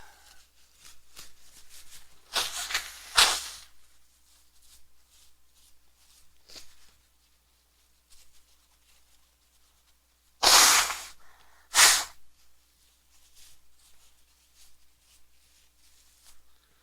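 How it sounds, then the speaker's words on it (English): A person blows their nose in a few loud, harsh bursts, one long blast then two short ones close together, with near-silence between. "I gotta blow my nose."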